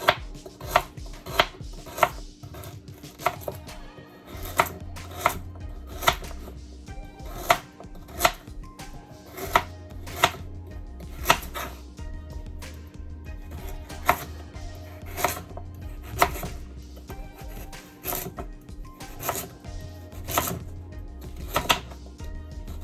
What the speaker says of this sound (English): Then I have my carrots that I'm going to be cutting up